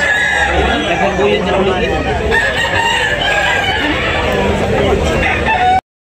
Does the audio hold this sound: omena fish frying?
no